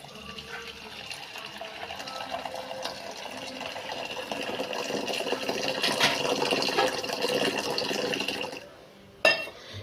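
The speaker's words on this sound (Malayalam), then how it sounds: "അല്പം പഞ്ചസാര ഇട്ടു കട്ട തിളപ്പിച്ച് വെച്ചത് ഒഴിക്കുവാനേ" Strong boiled tea made from Horlicks powder, milk powder and sugar is poured in a continuous splashing stream for about nine seconds, then stops abruptly with a brief clink.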